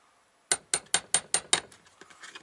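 Six sharp, evenly spaced hammer taps on a Motor Sich 475 engine part ring out close by, followed by several lighter, softer knocks.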